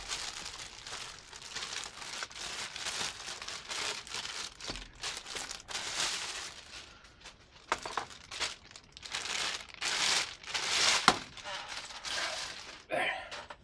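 A Redgrass R9 desk lamp is unwrapped from its packaging at a workbench, with close crinkling and rustling of plastic wrap in repeated bursts throughout and a few sharper tearing snaps near the end.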